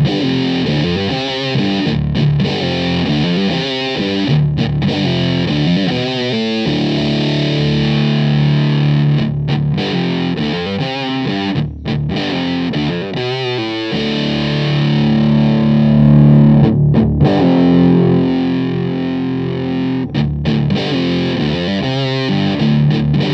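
Electric guitar through a JHS Muffuletta fuzz pedal on its Russian Big Muff setting, thick saturated fuzz chords and riffs with sustained notes and brief choppy gaps, loud and dense throughout with no talking.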